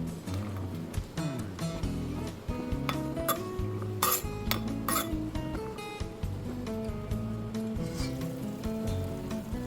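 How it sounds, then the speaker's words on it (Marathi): A pot of korma biryani with basmati rice cooks on a low flame, with constant clattering of utensils and pot lids, metallic clinks and scraping over a faint sizzle, busy and close throughout. "आता मंद आचेवर आपण हे 5 ते 8 मिनिटं चांगलं शिजवून घेऊया"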